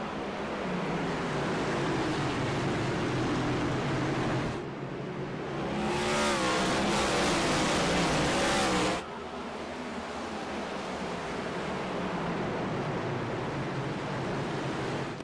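Race cars roar into a green-flag restart at a short paperclip-shaped track, a dense, loud wall of engine noise that surges and swells in the middle as the pack accelerates past, then settles to a steady distant drone.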